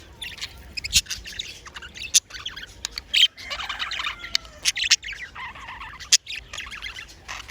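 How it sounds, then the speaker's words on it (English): Parrots on a farm calling in sharp squawks and chirps, several loud close bursts scattered irregularly over quieter background chatter, with no speech. "these are the beautiful parrots"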